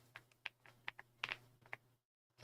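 Someone types on a pre-built DP 104 mechanical keyboard, producing a quick, uneven run of crisp clacky keystrokes, close and fairly quiet, over a faint steady hum and with no one speaking.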